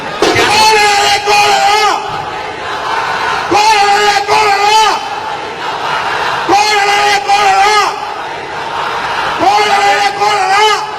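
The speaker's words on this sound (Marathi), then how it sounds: "कार्यकर्त्यांचा प्रचंड असा जल्लोष" Congress party workers cheer loudly at a rally in Mumbai, with repeated surges of shouting and chanting from a large crowd, rising and falling in waves.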